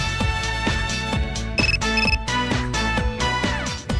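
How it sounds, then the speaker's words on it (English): A phone text-message alert chimes in Persona 3 Portable on PSP, a bright tonal melody over steady game music, loud and continuous across the whole stretch with no talk. "You received a text message."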